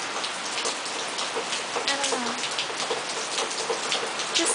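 Steady rain patters on surfaces close by, with scattered distinct drops over a constant hiss and no talking.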